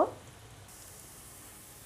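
Onions frying in oil over a medium flame while being stirred, a soft, steady sizzle after a brief initial clatter, fairly faint and with no talking.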